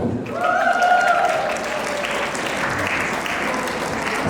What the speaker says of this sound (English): A big round of applause for Surjit Sandhu